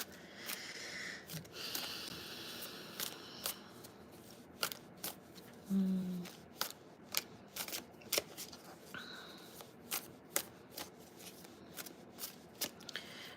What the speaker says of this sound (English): Let me pull a card for you.